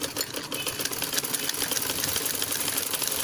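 A sewing machine stitches the inner lining of a lehenga with a steady, rapid mechanical whir and fine ticking, close up and continuous with no talking.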